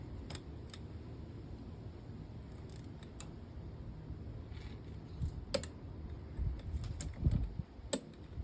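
A torque wrench clicks as cylinder head bolts are tightened on a Yamaha SX Viper 700 snowmobile engine, a few faint, sharp isolated clicks over a low background hum in a quiet workshop.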